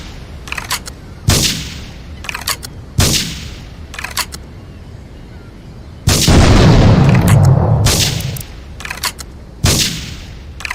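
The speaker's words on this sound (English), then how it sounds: "investigate reports of gunfire and explosions" Loud gunfire bursts and booming explosions from the video game GTA 3 at Portland Harbor, several sharp blasts spaced a second or two apart with a longer roaring explosion in the middle.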